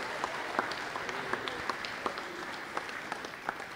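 Audience at a high school awards evening applauding an absent sports award winner, a quiet, steady patter of clapping with occasional sharper individual claps, heard from a distance.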